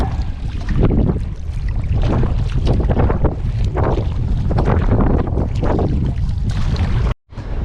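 Canoe moving across a wilderness lake, with steady rhythmic paddle strokes and water splashing close by, heavy wind buffeting the microphone throughout.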